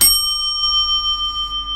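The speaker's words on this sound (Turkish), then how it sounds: "Bu arada yeni bir zil aldım." A single bright bell strike rings out clearly, its metallic tone sustaining and slowly fading over a couple of seconds.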